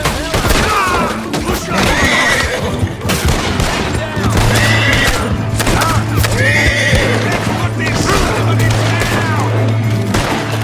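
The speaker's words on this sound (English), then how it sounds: "Tam, the alcoholic horse, falls to his death, riddled in bullets." In Red Dead Redemption, a horse whinnies loudly and repeatedly amid rapid bursts of gunfire and clattering hooves, the chaotic scene close and intense with voices mixed in.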